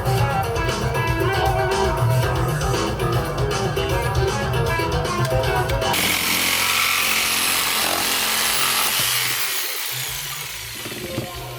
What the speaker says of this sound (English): So we'll measure this and we're gonna cut the pipe